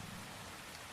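Rain falling steadily in a village during a storm, a dense, even hiss spread across the whole second with no voices.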